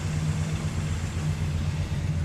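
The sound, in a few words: car engine idling with ticking sound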